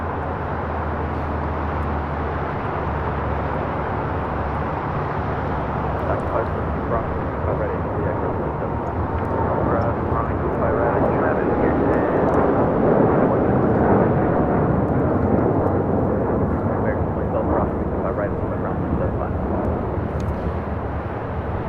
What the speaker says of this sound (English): This is United Airlines Flight 32 taking off to Tokyo Narita on a 787-10 Dreamliner.